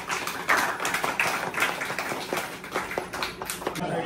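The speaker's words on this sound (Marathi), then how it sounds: "लोकांसाठी एकदा जोरदार टाळ्या वाजवा" An audience at a dance class's second-anniversary celebration claps in a burst of uneven, overlapping slaps that continue for several seconds at moderate loudness, with no voices.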